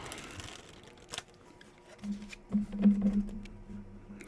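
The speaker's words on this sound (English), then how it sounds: "I want to give this a good shuffle as well." A deck of tarot cards is shuffled by hand, giving soft riffling and flicking bursts that thicken into a denser, steady shuffling patter over about two seconds, close and alone without speech.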